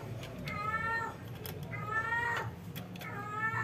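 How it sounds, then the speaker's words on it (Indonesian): Several cats yowl during mating season, drawn-out wavering meows repeating in three long calls, moderately close, with outdoor background noise underneath. "Wah, di sini lagi musim kucing kawin teman-teman. Banyak kucing dari kemarin di sini."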